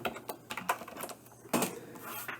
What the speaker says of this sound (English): So I'm going to type this in. I'm going to type in input